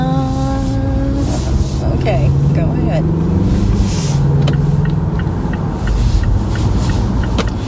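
Cars on a multi-lane road pass close by at a junction, a steady engine rumble and tire roar swelling and fading, with someone talking briefly over it from inside a waiting car.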